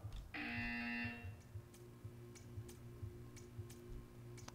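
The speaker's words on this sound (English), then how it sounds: "You will hear a buzzer. When you hear the buzzer, stare at the art." A loud electronic buzzer in the video game Portal 2 blares once for about a second, then cuts off, leaving faint clicks and ticks in a quiet background.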